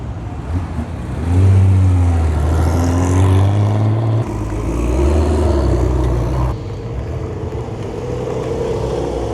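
A procession of Porsche cars, including a 911 GTS, rolls past at a large Porsche event in Australia, engines rising loud and close then easing off as successive cars pass one after another.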